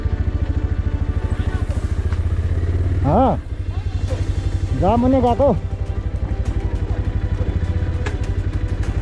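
A motorbike engine chugs steadily up close as it rides a very rough, narrow mountain track in Nepal, with a rider's voice speaking briefly over the constant engine rhythm.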